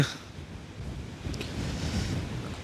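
Strong wind blows along the Jaffna shoreline, a steady, close, blustery roar buffeting the microphone, with a low rushing wash like surf beneath it and no voices.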